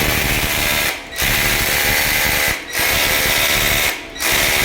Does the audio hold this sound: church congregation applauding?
no